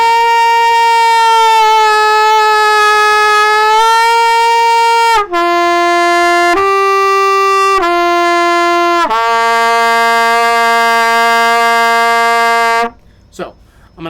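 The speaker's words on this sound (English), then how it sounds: "So lip bending is just taking a note and then bending the note so that it goes down and then bending it back up." Trumpet lip bending exercise: a sustained brassy tone bent down and back up, then a series of held notes stepping to lower pitches and a long final note, loud and close, no talking over it.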